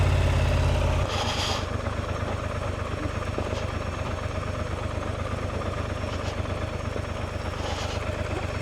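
A Scrambler 1200 XE motorcycle idles with a steady low rumble while turning around on a Nevada dirt road, and a louder burst of engine noise fades in the first second into a continuous near idle.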